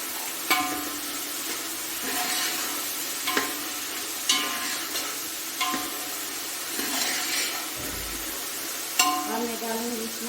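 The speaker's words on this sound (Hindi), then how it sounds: "इसको थोड़ी देर के लिए इसमें फ्राई करूंगी।" Black pepper, cinnamon and cumin frying in oil for beef pulao, a dense continuous sizzle and crackle close up, with occasional spoon scrapes and stirring taps against the pot.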